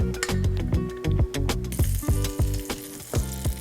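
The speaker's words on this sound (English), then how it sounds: "You hear that sizzle? My pan's nice and hot." Home-fry potatoes sprinkled with sea salt sizzle in a hot pan, a close, steady frying hiss broken by rhythmic clatters and stirring knocks.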